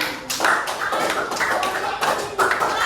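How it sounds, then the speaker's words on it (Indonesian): A classroom of students claps for a group that has just presented, with brief uneven bursts of handclaps rising and falling over a few seconds. "tepuk tangan untuk mereka"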